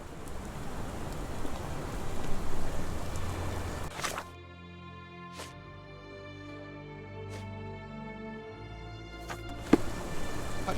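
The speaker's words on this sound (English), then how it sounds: "This dreary rain is making a miserable day even worse." Rain falls over London in the game Sherlock Holmes: The Awakened, a steady dense hiss for the first few seconds that then drops away beneath a quieter, tonal background with a few sharp ticks.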